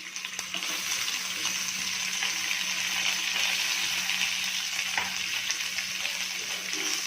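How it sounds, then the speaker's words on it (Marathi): Finely chopped onion sautéing with garlic and curry leaves in a pan for vermicelli pulao, a steady, loud hiss of sizzling oil running continuously up close with faint stirring scrapes. "परतून घ्यायचं आहे आपला कांदा"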